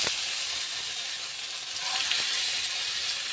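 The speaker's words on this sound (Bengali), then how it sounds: "একে একে আমি তৈরি করে রেখেছিলাম যে পোক্তাগুলি, এগুলি ভাজতে দিয়ে দেবো।" Green banana koftas frying in hot oil, a steady dense hiss-like sizzle that holds at an even level throughout, close and unbroken, with only faint small clicks and no voices.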